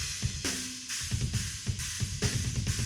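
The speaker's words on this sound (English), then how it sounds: "Near ambient mics sound like this." Drum kit picked up by near ambient room mics, with a roomy wash of cymbals and a few drum hits in a steady beat, heard alone.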